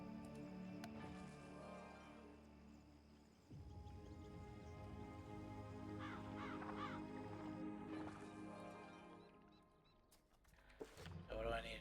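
A crow-like bird caws inside the video game Wizard101, heard in the Caerleon area amid steady game music and ambience, with a voice talking over it.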